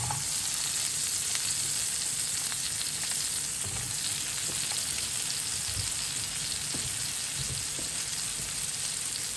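Food sizzles steadily in butter in a pan on an unbalanced camp stove at Jellystone Park, a close, continuous crackling fry with occasional stirring scrapes and no talk.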